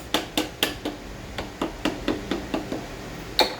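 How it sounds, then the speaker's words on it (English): Mallet or hammer tapping a part into a groove while rebuilding an Airline R260-3 compressor, a dozen sharp metallic knocks at an uneven, quick rhythm, close and clear with no talking. "I take a mallet or a hammer, use whatever. Just make sure it's in."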